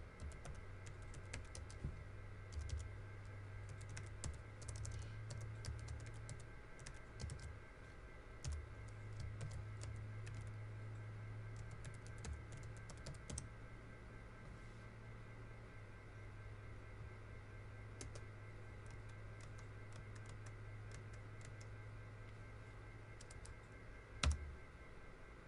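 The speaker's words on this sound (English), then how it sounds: "I've opened up PowerShell, and I'm going to type in" Computer keyboard typing in a PowerShell session, faint bursts of light key clicks with pauses over a steady background hum, one sharper click near the end.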